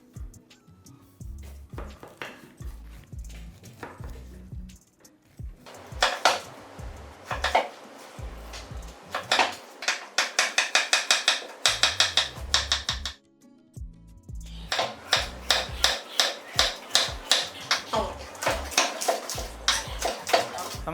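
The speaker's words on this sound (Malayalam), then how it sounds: "ആദ്യം നമുക്ക് പൈനാപ്പിൾ കട്ട് ചെയ്യാം." A knife cuts through pineapple on a board to prepare pulissery, giving close, rhythmic chopping taps in several bursts separated by short pauses.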